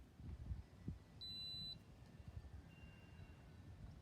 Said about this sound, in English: You'll hear a beep from this